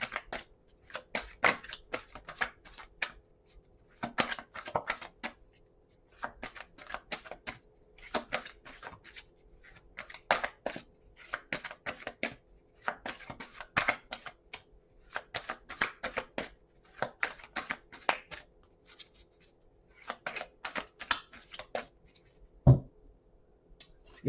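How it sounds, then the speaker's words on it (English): A deck of tarot cards is shuffled by hand in repeated riffling bursts, crisp close-up flutters separated by short pauses, continuing for over twenty seconds. "give them a bit more of a shuffle."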